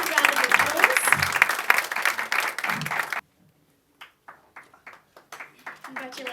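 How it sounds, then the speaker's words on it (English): Lively crowd applause and cheering at an awards showcase for a youth democracy runner-up, loud and dense for about three seconds, then cutting off abruptly, followed by sparse, scattered claps and faint voices. "Please give her a big round of applause"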